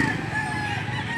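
A Boston Roundhead gamecock rooster crows in a single sustained call at a Saturday fowl market in Lipa, Batangas, against a steady bed of crowd and market noise.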